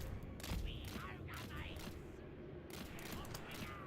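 Massed gunner volleys crackle in a Total War: Warhammer III battle, a dense continuous rattle of distant shots layered over general battle din, with a voice talking over part of it.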